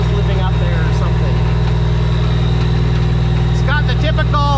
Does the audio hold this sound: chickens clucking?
no